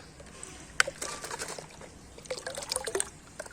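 Liquid tomato fertilizer is stirred into water, with soft sloshing, trickling and splashing close by. A sharper splash lands early, then irregular liquid movement builds toward the end.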